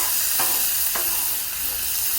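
Ribeye steaks sizzle on a Blackstone griddle, a steady broadband frying hiss with two brief sharper bursts near the start, close and continuous with no talking.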